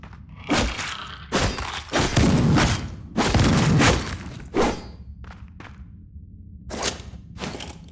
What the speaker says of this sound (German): Ja, die Pumpgun, die knallt schon, ne?